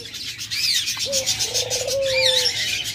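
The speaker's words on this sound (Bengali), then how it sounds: "অসংখ্য পরিমাণ সাদা সুইটাল ঘুঘু রয়েছে" White doves coo in a crowded pet-bird shop, with two drawn-out throaty coos running over steady high chirping and twittering from many other caged birds nearby.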